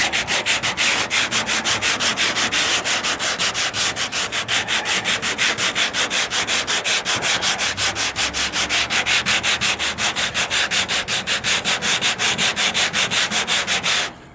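Steady, rapid back-and-forth sanding strokes on a car body panel scrape continuously and loudly on a hard surface, with a regular rhythm throughout and no voices.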